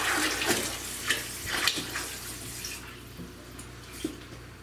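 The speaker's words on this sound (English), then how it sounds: "That's a good passive diffuse water flow." Water flows and splashes softly into a large shrimp-only aquarium, a continuous bubbling trickle with scattered brief drips and gurgles, quiet and close, with no talk.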